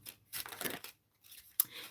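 Tarot cards being shuffled by hand close to the microphone, soft papery riffles and slides in short bursts with brief pauses between them.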